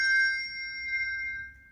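A single handbell in a handbell choir rings once, a clear bright tone right at the start that lingers and slowly decays across the clip, heard alone and close.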